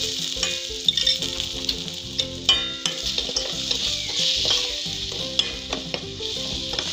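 Spiced potato cutlet mixture with turmeric and chili flakes sizzles steadily in a pan while a spoon stirs and scrapes against the metal in irregular knocks.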